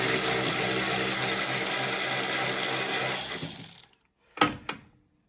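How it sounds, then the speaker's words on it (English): A 3/8 electric ratchet buzzes steadily and loudly for nearly four seconds while backing out crusty bumper bolts on a Defender, winding down to silence, then two short sharp bursts follow close by. "3/8 electric ratchet."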